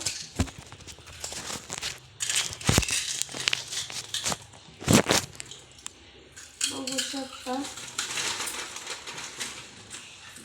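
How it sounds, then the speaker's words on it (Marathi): Papads frying in a small amount of oil give irregular crackling and crinkling bursts, sharp snaps scattered through the stretch, with a voice talking briefly partway through. "पापड तळत आहे"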